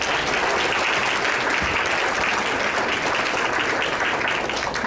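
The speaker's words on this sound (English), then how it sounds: "Let's give a round of applause to Judy Ann Morris." An audience at a volunteer recognition ceremony for senior volunteers gives a steady, dense round of applause that holds at an even level throughout, with no voices breaking through.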